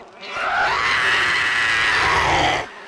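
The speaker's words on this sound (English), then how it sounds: "Updated screamer sounds. You gonna scream?" A screamer zombie from the game 7 Days to Die lets out a long, loud, sustained scream with added subharmonics, holding steady for over two seconds and then cutting off, with no talk over it.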